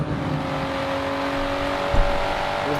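Steady engine drone of a 550-horsepower car with an RB engine in Forza Horizon 4, a constant hum with a brief low thump near the end, no talk.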